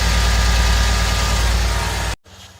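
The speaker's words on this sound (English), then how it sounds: "air compressor noise." On a 2013 Mercedes GL550 (X166), the air suspension compressor runs with a steady low hum and drone, loud and close, then cuts off abruptly near the end, leaving faint background sound.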